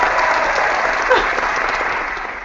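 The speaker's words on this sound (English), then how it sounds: "a round of applause, if you would," An audience at a live interview claps enthusiastically, a dense, sustained applause that slowly tapers off toward the end.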